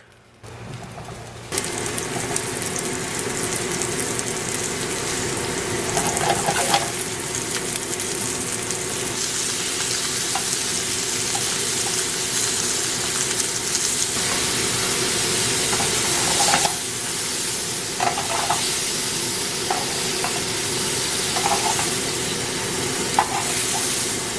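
Mushrooms browning in hot oil in a pan, a loud, even sizzle running throughout after a brief quiet start, with occasional stirring clicks and no talk.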